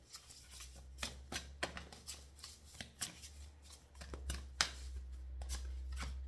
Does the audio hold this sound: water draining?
no